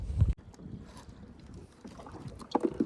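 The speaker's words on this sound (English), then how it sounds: "I can hear the jet boats going in here." Jet boats run out on the Gastineau Channel, their low engine drone faint and distant beneath wind buffeting the microphone, with a brief louder gust at the start.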